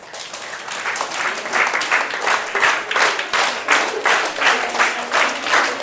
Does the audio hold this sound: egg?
no